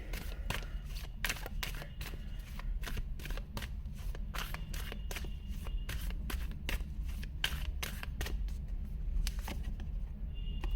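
Tarot cards are shuffled by hand in quick, crisp riffles and flicks, close and fairly quiet, with no talking.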